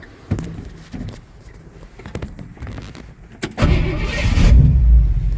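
Clicks and a door thud are followed by the engine of a 1968 Ford F100 pickup cranking and catching, then settling into a steady, rough idle close by, heard from outside.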